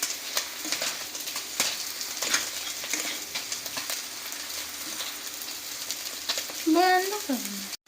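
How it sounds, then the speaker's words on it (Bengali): Jackfruit and potato frying in a pan with spices, a steady sizzle under scattered stirring clatter, with a brief tonal squeak near the end. "মশলাটা দিয়ে আরও কিছুক্ষণ আমরা বেশ ভালো করে কষিয়ে নিচ্ছি"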